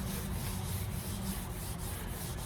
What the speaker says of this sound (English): So we'll just go back and forth and scrub this a few times here.